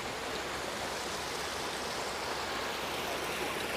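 Water pours continuously from a hose at a mountain bathing spot, a steady broadband rushing hiss that stays even and unbroken from start to finish with no voices.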